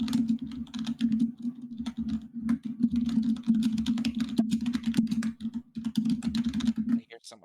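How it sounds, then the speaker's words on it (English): Rapid, continuous typing on a computer keyboard, close and clicky throughout, under a steady low hum and with a voice speaking over it. "I hear someone typing."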